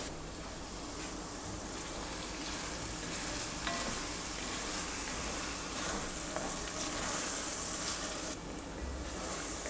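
Butter melts in a soup pot, giving a soft, even sizzle that stays at a low, constant level throughout with a few faint clinks, no talking.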